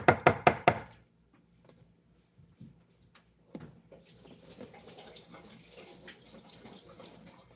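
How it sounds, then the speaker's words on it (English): A spoon rinsed under a running kitchen tap during donut baking, a steady low wash of water filling the second half after a few sharp knocks near the start. "I'm rinsing it off just because I'm going to need it again for the baking soda"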